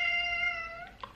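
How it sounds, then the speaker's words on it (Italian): A single house cat meows close by, one drawn-out, steady call that trails off at the end, heard alone with no talking. "ci sono questi tre gatti"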